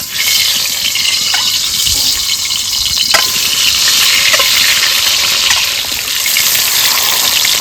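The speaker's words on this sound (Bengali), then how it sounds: "কড়াইতে তেল দিয়ে দেবো ডিম ভাজার জন্য" Village chicken eggs, rubbed with salt and turmeric, fry loudly in hot oil in a wok, a dense steady sizzle close up with occasional stirring clicks and no talk.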